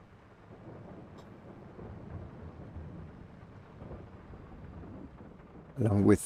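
Steady patter of thunderstorm rain in the video game Farming Simulator 22 fills the background, ending with a sudden loud crack of nearby thunder.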